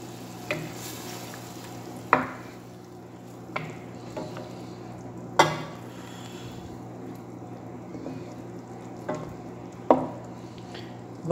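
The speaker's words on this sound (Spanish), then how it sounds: "Vamos a poner las pasas" Golden and black raisins stirred into chicken frying in a pan for a wine, olive and raisin dish: a constant low sizzle broken by a handful of sharp spoon scrapes and knocks spaced a second or two apart.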